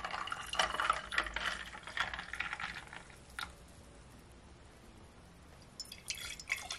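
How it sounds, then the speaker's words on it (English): Beetroot juice is poured into a glass, a soft liquid trickle and dripping heard up close in a quiet kitchen, strongest early on, then fading before a brief splash near the end. "Then I'm gonna pour my beetroot juice to my glass."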